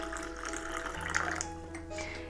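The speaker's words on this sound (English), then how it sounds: "we're gonna add our water that's been boiled, but not freshly boiled" Hot water that has been boiled and left to cool slightly pours steadily into a cup of matcha for a pumpkin spice matcha latte, a continuous close trickling stream with no speech.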